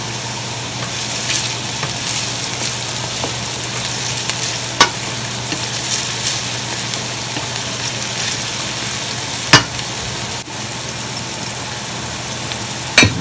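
Onion and leeks stirred and frying in a pan, a steady sizzle running throughout with a low hum beneath and a few sharp utensil clanks against the pan.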